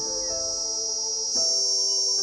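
Cicada calling, a steady piercing high-pitched buzz that holds unbroken throughout and swells slightly louder near the end.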